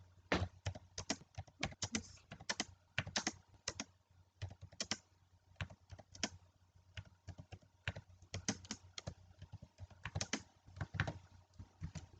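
Quiz question being typed on a computer keyboard, a quick run of close, crisp key taps in bursts with short pauses, no talking.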